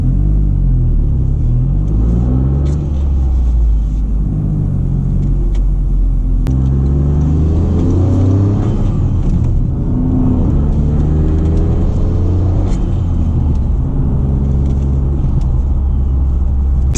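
A 2023 Toyota GR Corolla's engine drones with a deep, booming exhaust resonance inside the cabin, a steady low rumble that swells slightly as it revs, with no talking.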